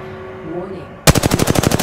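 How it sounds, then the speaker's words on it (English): Rapid automatic gunfire in the Apex Legends video game bursts in suddenly after a quieter stretch, a loud, evenly spaced string of shots that runs to the end. "I am taking fire"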